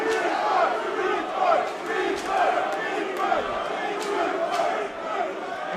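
A wrestling crowd in a carousel room trades dueling chants, rhythmic shouted phrases rising and falling in waves, loud and reverberant, with a voice speaking over the top.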